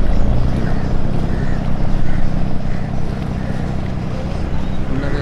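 A houseboat engine runs steadily on the Alappuzha backwaters, a continuous low rumble with wind noise over it throughout, and no clear talk.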